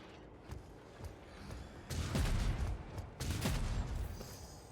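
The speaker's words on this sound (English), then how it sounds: "Ah, stun grenades." Stun grenades going off in the Warhammer 40k Rogue Trader video game, two bursts of crackling explosive noise standing out over a quieter background with faint clatter.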